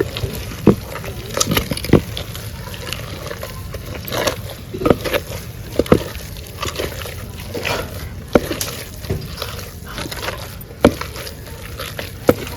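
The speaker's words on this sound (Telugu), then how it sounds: "కొంచెం తిప్పుకుందాం అట్లా." Ragi mudde in a pot gets stirred with ghee, making thick, wet sloshing and scraping strokes in an irregular rhythm, with sharp knocks of the spoon against the pot and soft background noise.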